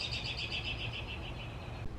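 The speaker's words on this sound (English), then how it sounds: "Of course, the birds are talking." Outdoor birds chirp in quick repeated high trills, faint and steady over a soft background hush, with no one speaking.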